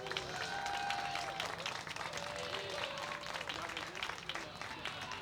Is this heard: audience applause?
yes